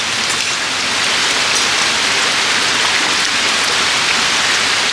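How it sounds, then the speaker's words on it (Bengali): Ingredients stirred and dry-roasted in a dry wok over a medium flame, with no oil, give a steady, dense, close-up rustling hiss that runs unbroken throughout without any voices. "এবার শুকনো কড়াই একটু নেড়ে চেড়ে ভেজে নেব"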